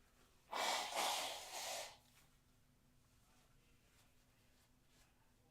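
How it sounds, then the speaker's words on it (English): A man blows his nose in a few forceful, breathy bursts close to the mic, then quiet room tone follows. "I'm going to blow my nose real quick"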